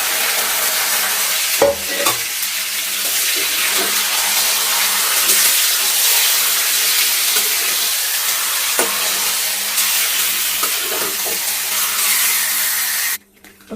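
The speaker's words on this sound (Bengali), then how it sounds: "এই পর্যায়ে আমি মাখিয়ে রাখা মাংসগুলো দিয়ে দিব।" Marinated chicken for biryani hits a hot pan and sizzles loudly and continuously, with a few stirring knocks early on before the sound cuts off at the end.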